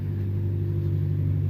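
A truck engine running during a mudding outing, giving a steady, low rumbling drone with a slight rise in revs, heard up close with no talk.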